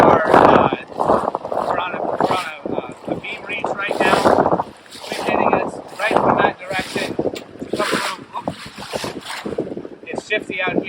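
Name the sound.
wind hitting a sailboat on a beam reach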